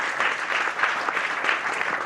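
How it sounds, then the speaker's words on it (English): Live podcast audience applauding a guest being introduced, a loud, close, sustained round of clapping with slight swells, heard alone without talk. "Please, round of applause for her."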